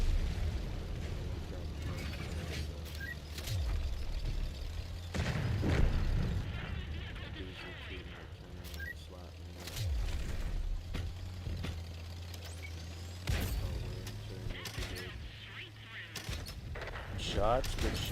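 Tank cannon fire in the World of Tanks video game: several heavy, booming shots spaced seconds apart over a constant low engine rumble, with smaller pops and impacts between them.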